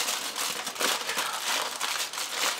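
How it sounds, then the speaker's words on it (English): Strong aluminium foil crinkling and crumpling continuously as it is folded up around a ducana parcel, close and fairly loud, with no talking. "you bring the foil up, and I am using strong foil. Fold together. And we are folding."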